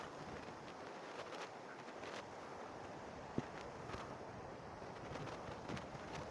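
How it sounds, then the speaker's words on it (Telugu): Steady, strong wind at a full river barrage buffets the microphone with a continuous broadband roar, broken only by a brief sharp tap partway through. "చాలా గాలి వీస్తుంది"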